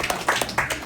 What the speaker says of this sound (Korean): 박수 한번 잘 주세요